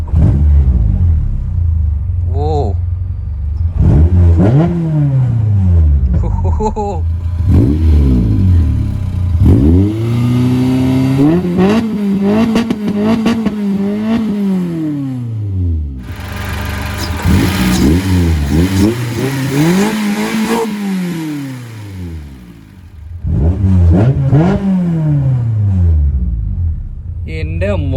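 A Maruti Zen fitted with a G16B engine revs hard several times, each throttle blip rising and falling in a loud, throaty rumble close by, with brief exclamations and talk between the revs.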